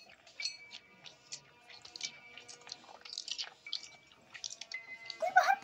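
Water drips in the Granny horror video game, a quick series of light, irregular plinks close by, with faint background ambience and no speech.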